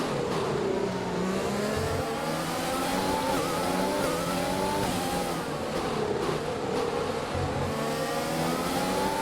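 Several Formula 1 race car engines in the F1 2020 game, a close pack of high-pitched whining engines droning continuously with rising and falling revs and no talk.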